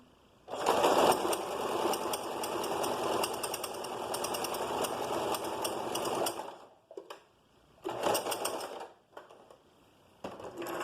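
A home sewing machine stitches in a steady, loud mechanical whir for about six seconds, with backstitching at start and end, then stops and makes two shorter bursts of stitching; the machine runs with a somewhat rough, unpleasant clatter.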